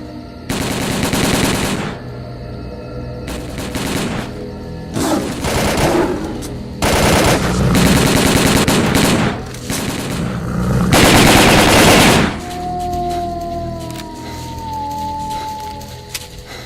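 Repeated bursts of automatic machine gun fire from S.T.A.L.K.E.R.: Call of Pripyat, loud and close, several long volleys separated by short pauses, ending in quieter ambient game sounds.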